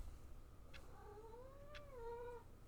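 A cat in Stanley Parable Ultra Deluxe gives a single drawn-out, rising-and-falling meow, clear and close, over a quiet steady background.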